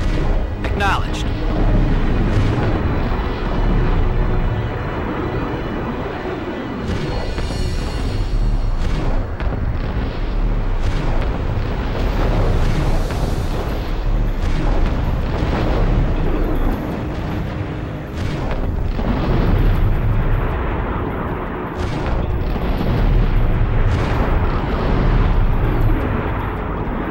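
Deep rumbling booms and blasts as towers are destroyed in the aerial combat game Rebel Raiders: Operation Nighthawk, layered over a constant jet-engine roar, with several heavy explosions and radio voices talking throughout.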